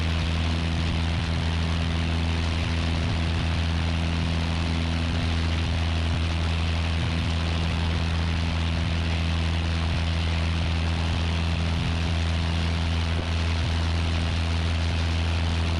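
Piper Archer light aircraft with a newly installed engine on its first run, flying over Hartford: a steady, loud, unbroken drone of piston engine and propeller, close and continuous with no talk.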